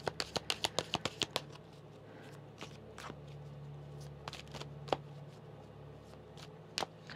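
A large Modern Witch Tarot card deck is shuffled close up: a quick run of crisp riffle snaps, then softer, scattered slides and taps of cards being handled, quiet with no talk.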